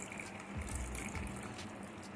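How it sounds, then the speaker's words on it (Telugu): Tamarind juice is poured into a cooking pan, a soft steady liquid splash and gush heard close up and fairly quiet, with no talking. "తర్వాత దీంట్లో చింతపండు పులుసు పోయాలి."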